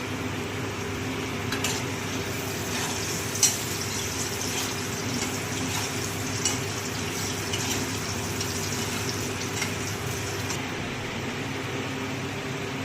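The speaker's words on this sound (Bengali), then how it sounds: "মাছের ঝোল ফুটছে" Fish curry simmers in a pan with a soft, steady bubbling hiss under a low background hum, broken by a couple of faint clinks, with no one talking.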